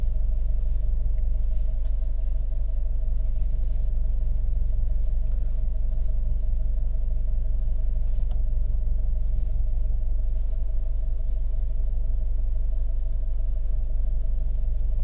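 A 2021 Hyundai Veloster N with a dual-clutch transmission (DCT) gives off a deep, steady engine and road rumble heard from close by as it accelerates, a continuous drone with no voices over it.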